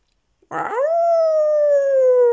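A voice imitates a wolf while reading a children's story aloud: one loud, drawn-out, howl-like tone, starting abruptly and held steady for about two seconds.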